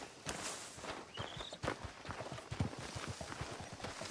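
Soft, rapid hoofbeats patter steadily in the background in the video game Red Dead Redemption 2, with a brief rising electronic tone partway through; no voices.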